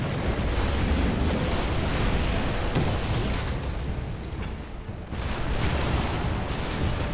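Tank cannon fire and explosions from a veteran Hammer tank with extra cannons in the strategy game Red Alert 3, a loud, dense, continuous roar of blasts and booms that barely lets up throughout.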